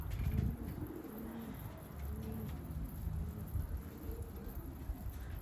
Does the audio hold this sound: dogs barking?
no